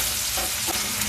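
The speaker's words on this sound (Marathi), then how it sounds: "आता माझा कांदा हा थोडासा ब्राऊन होईपर्यंत मी फ्राय करणार आहे" Onion and paneer shallow frying in a pan for a brown rice vegetable pulao, a steady close sizzle with soft stirring scrapes running throughout, alone without voices.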